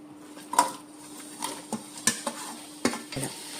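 Two long-sliced onions in hot oil, a soft sizzle broken by several sharp scrapes and clinks of a spoon stirring against the pan, close and fairly quiet.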